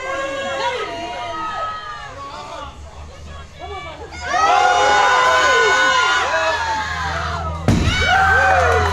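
A live powerlifting crowd cheers and shouts loudly after a 280 kilo lift, with the roar swelling midway and an announcer talking over the din.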